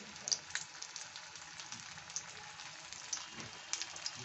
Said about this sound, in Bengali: আমি এইভাবে সবগুলো ভেজে ফিরে আসছি।